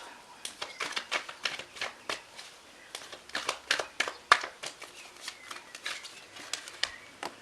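Tarot cards shuffled by hand during a reading, a close, crisp series of quick flicking and riffling bursts repeating at an irregular pace across the whole stretch, with no talk.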